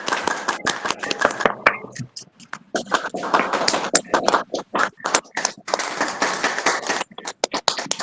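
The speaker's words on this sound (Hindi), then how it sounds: "कुछ तो हमने भी कुछ जगह तालियां बजी हैं" Hands clap in short, irregular bursts during a Hanuman Chalisa recitation, sharp slaps trailing into a ragged patter with brief pauses, while voices talk underneath.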